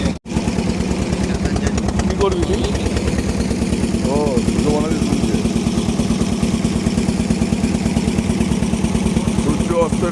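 Steady, loud motorboat engine throb on the Ganges near Bansberia, with a constant pulsing low rumble filling the whole stretch, close by; faint voices sound intermittently beneath the engine noise.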